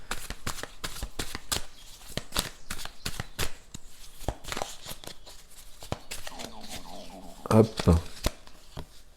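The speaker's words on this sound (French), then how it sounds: "On va remettre une carte ici." Tarot cards being handled, shuffled and laid down during a reading, a steady run of crisp close flicks and soft slaps mixed with quiet murmured speech.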